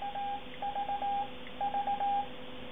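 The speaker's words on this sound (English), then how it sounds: "all I have to do is just to bring up the keyer on the iPad, and I can send a series of V's" A steady Morse code CW tone sent from an iPad keyer through a WinKey USB interface to a TS-50S radio spells out three V's, each three short beeps and one long, clean and alone.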